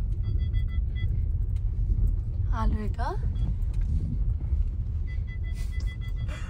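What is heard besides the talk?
car driving up a small road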